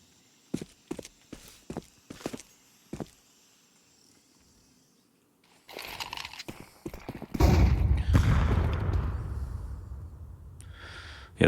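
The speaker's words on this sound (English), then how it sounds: "2 pairs of footsteps are heard" Footsteps of two players in the Counter-Strike 2 video game sound as a quick series of sharp, close taps with pauses between them. A louder, dense burst of gunfire-like noise and rumble follows near the end.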